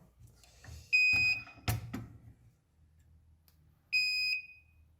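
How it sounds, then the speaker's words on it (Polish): Two shrill electronic alarm beeps sound a few seconds apart, piercing and close, over quiet background rumble and some clatter, as a socket is removed from an MSI Z370 Tomahawk motherboard at about 213 degrees. "Jest i nasz alarm."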